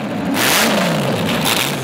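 An Auto Union Type C race car engine revs hard, a loud, raw, continuous roar that swells and shifts in pitch as the throttle rises and falls, with no voices over it.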